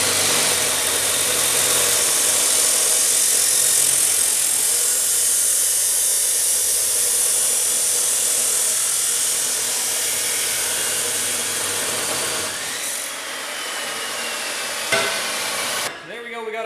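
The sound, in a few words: cutting driveshaft tube with power tool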